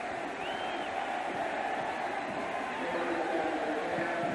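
Stadium crowd at a 1990 Miami versus Cal college football game roaring after a 99-yard kickoff return, a dense continuous wash of cheering beneath a broadcaster's voice.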